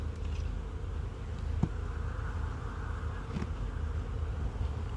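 Honey bees buzz steadily around an open hive being inspected in early April, a dense continuous drone close by with no talk over it.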